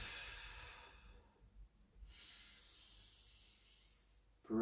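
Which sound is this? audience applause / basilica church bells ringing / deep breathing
deep breathing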